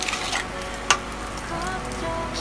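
Eggs sizzle steadily in a frying pan that they stick to, the oil crackling close and continuous with a couple of brief scraping stirs and no talking.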